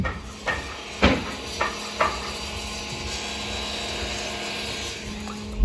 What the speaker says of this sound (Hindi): बगल में जो है कंस्ट्रक्शन वर्क चल रहा है तो उसकी आवाज़ें आ रही हैं